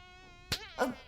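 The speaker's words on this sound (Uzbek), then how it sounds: "Bu yerda pashsha bor." A fly buzzes in an animated cartoon scene, a thin, steady whining hum that is briefly broken by two short swats or buzz swells near the end, quiet and close.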